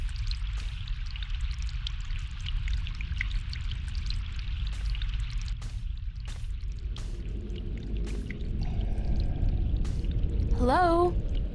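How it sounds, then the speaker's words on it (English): Water pours and trickles in The Longest Journey game, a steady wash rising toward the end, with bright bubbling and gurgling tones near the close over a constant ambient bed. "Water!"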